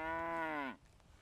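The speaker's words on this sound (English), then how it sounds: "Wait, what's that mooing sound?" A cartoon cow astronaut gives one loud, close, sustained moo in a children's solar system show, its tone falling off sharply at the end, with nothing else heard around it.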